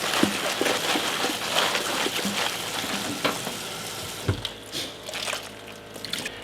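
Running water from a kitchen sink tap washes seafood for a Filipino kare-kare, a close, steady hissing splash with small clatters and knocks, easing off toward the end.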